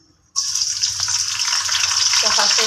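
Green chillies, onion and curry leaves hit hot oil in a pan for gongura fish curry, bursting into a sudden loud sizzle that carries on steadily and close, with faint crackles building toward the end.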